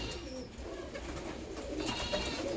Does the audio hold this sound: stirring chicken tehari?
no